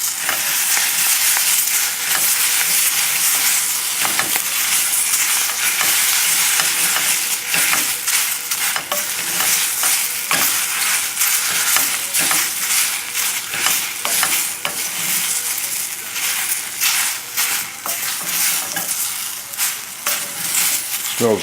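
Lamb shanks fry in a pot with a loud, continuous sizzle, broken by frequent scraping and shuffling from stirring or turning, close up, with no talking.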